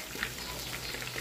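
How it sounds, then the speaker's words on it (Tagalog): Chicken sizzles in a frying pan with a dense, steady hiss and faint popping. "dito sa kabila naman ay nagpa-fry tayo ng ating chicken"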